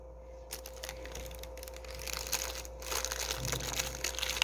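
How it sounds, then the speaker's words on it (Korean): Vinyl tape crinkles as it is wound around a lilac cutting whose base is wrapped in wet moss or soil. The rustling is close and steady, growing a little busier toward the end, with a faint constant hum underneath. "이를 테이프로 감아줍니다"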